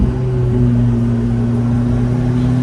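Ferrari engine on the Monaco F1 street circuit holding a steady, close drone with strong low harmonic bands and a brief pitch step, no speech.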